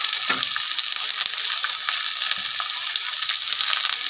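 Onion and tomato fry in hot oil, a steady dense sizzle with crackling pops and a few stirring scrapes close by, no talk over it.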